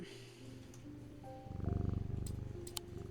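A cat purrs steadily in a video game, a low rhythmic rumble swelling louder midway over quiet game music and faint chimes, with no talking.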